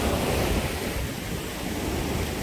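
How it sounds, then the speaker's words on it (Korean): Ocean waves surge and break continuously at Gwangalli Beach in Busan, a loud, steady wash of surf with wind noise buffeting the microphone and no talking. "여기서 잠깐 큰 파도를 기다려 보겠습니다."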